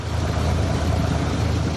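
A farm tractor engine drones steadily in a low, continuous rumble, loud and close throughout with no voices.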